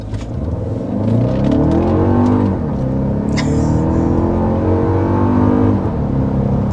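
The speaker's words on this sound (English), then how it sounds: "we're going to go ahead and start with a hard acceleration" A 2024 Toyota Grand Highlander under hard acceleration, its engine note climbing loudly through rising revs, dipping at a gear change and pulling up again, close and alone.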